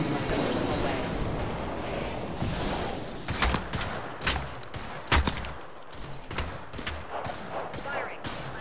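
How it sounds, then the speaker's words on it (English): Bursts of gunfire in the Apex Legends battle royale game, repeated sharp shots in uneven clusters over a busy game soundscape with music and effects. "I'm under fire."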